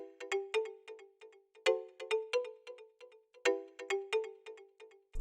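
A bright synth melody plays short plucked notes bounced by a ping pong delay at reduced volume, so each note trails quieter echoes in a quick, bouncing rhythm, with no voices.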